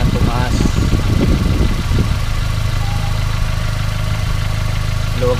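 A small engine idles unevenly after an air-fuel mixture screw adjustment, its speed rising and then settling into a steady hum. Someone speaks over the engine at the start.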